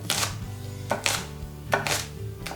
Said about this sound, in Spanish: Picamos también la ramita de apio.